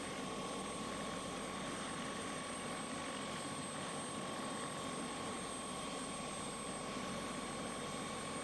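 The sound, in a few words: Trinity House helicopter flying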